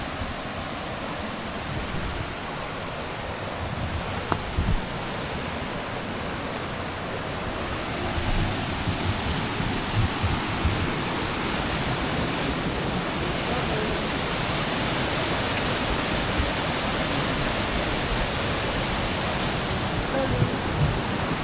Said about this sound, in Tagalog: Tukuran Falls with the doggy.